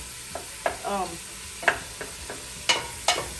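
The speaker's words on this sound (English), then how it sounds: "We're browning up our hamburger." Hamburger meat browns in a pan with a low sizzle broken by several sharp spatula scrapes and taps, with a brief voice partway through.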